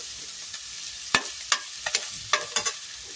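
Garlic sautéed in a pan for sautéed mung beans, with a light sizzle broken by several sharp spatula clacks and scrapes against the pan, close and without speech.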